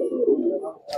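A large male Kalsira pigeon gives a soft, low cooing call up close, one short throaty phrase followed by a brief higher rustle.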